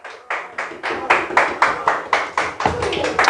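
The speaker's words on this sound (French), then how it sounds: "Est-ce que nous sommes capables d'applaudir le Seigneur ce matin pour cette parole?" A church congregation claps in a steady rhythm, about a dozen distinct clap bursts evenly spaced and fairly loud, with a few voices joining near the end.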